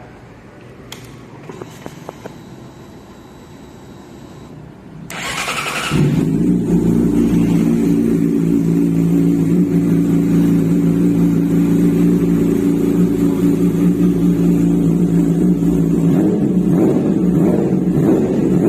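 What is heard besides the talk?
motorcycle engine starting and revving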